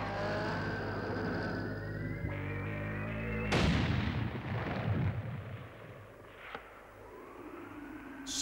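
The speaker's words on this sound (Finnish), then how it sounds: "Isoisä ampui kivärillään." A rifle shot rings out as a sudden loud blast amid a cartoon soundtrack, with a booming crack and rolling echo that tails off over several seconds, over music and background noise.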